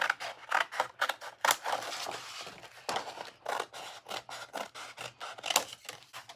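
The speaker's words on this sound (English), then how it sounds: "So we just need to cut out a small piece of this paper." Scissors snip a small piece of paper for a 3D unicorn card scene, a close, quiet run of rapid crisp cuts and rustling strokes with brief pauses, no one speaking.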